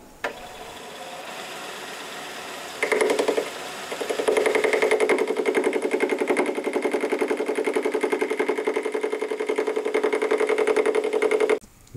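A metal lathe turns a rough piece of scrap aluminum held in a four-jaw chuck while making a bushing for a headlight motor. A steady, close mechanical whir with a rhythmic ripple steps up in loudness twice and then runs evenly, with no talking.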